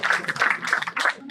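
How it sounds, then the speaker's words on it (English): Audience applause at an evening awards ceremony in Bengaluru, a brief burst of many hands clapping in a dense, steady patter that swells and dips before thinning out. "Big round of applause, ladies and gentlemen. Let's keep it going."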